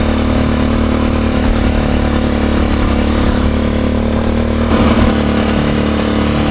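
A 50-year-old Honda enduro motorcycle engine labours as it climbs at elevation, a steady close droning hum that holds a constant pitch and level, with a brief rough change in tone partway through.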